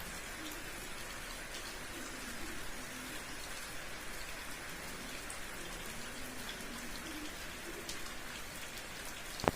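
Heavy rain falls steadily outside, a dense continuous hiss of drops on surfaces with a faint low rumble and a sharp knock near the end.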